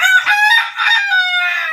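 A Black Sultan rooster crows loudly and close, one long strained call with a drawn-out trailing note.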